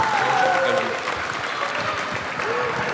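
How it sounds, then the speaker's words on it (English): Audience applause for basketball player Landry Shamet at a live event, a steady burst of clapping with a voice briefly heard over it. "please give a round of applause for Landry Shamet"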